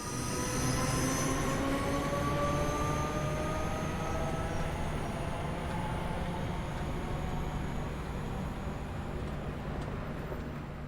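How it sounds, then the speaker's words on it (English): Class 314 electric multiple unit 314-201 pulling away from a station toward Glasgow, its traction motors whining with steady rising tones over loud continuous rumble and wheel noise, close and sustained throughout. "201 now leaves for Glasgow, showing off its characteristic traction motor sounds as it departs"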